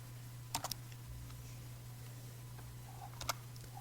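Computer keyboard keys tapped while entering an iptables command, a couple of quick short bursts of clicks near the start and again near the end over a steady low electrical hum, with no talking.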